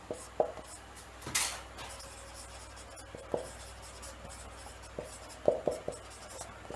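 Chalk or a marker scratches across a classroom board in short strokes and taps spaced unevenly over several seconds, close and fairly quiet, with no talk over it.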